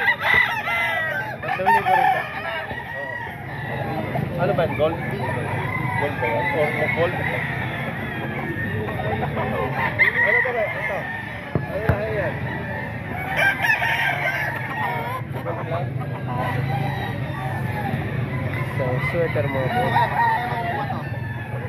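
Gamefowl roosters crow repeatedly amid clucking at a busy chicken market, close and dense, under steady crowd chatter and someone talking throughout.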